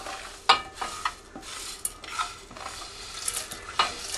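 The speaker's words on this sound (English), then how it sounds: "Now let's get the rice in there." Rice stirred into a pan of tomato sauce with a spatula, giving a run of close scraping strokes and soft clatters over a faint sizzle, with no talking.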